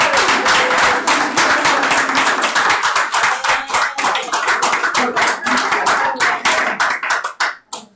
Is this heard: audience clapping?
yes